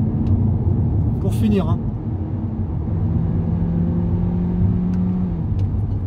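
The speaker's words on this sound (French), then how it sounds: "On va accélérer trop là, on accélère trop." An Audi A3 Sportback accelerates through a tunnel in Tokyo, its engine a steady low rumble and whir echoing off the walls, while someone speaks briefly over it.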